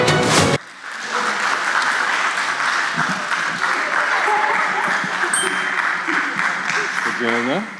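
An audience at a cybersecurity quiz talk applauds, sustained dense clapping after a brief sharp opening sound, with a few voices and light chatter mixed into the crowd.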